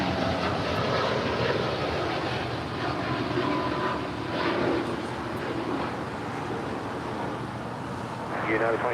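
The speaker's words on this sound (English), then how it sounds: "That is United 2614 departing to Newark Liberty on a 787-10" United Boeing 787-10 departing Los Angeles International Airport, a sustained jet engine roar with a person talking over it at a moderate distance.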